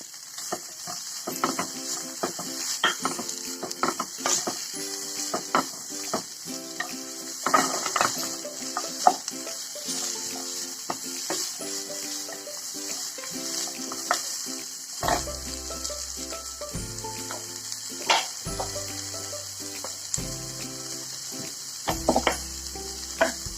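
Onions sizzle and fry in hot oil for a Kerala egg masala curry, a continuous soft crackle broken by repeated scrapes and clinks of a spoon stirring the pan, with low thumps near the end and no talking.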